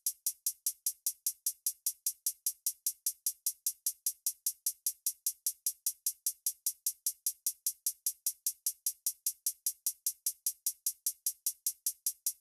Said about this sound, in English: the hi-hats just ended up sounding like this